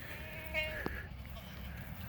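Purebred Kiko goats in a small backyard herd give a brief bleat or two over steady low background rumble, one short wavering call standing out near the middle.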